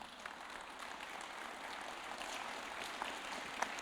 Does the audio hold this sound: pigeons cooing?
no